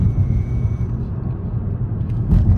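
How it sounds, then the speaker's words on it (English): Steady low rumble of a 2020 Nissan Altima SR with a CVT transmission driving on the road, heard from inside the cabin as a continuous engine and road drone with a brief swell near the end. "I'm just gonna be driving through the manual gears in the Altima."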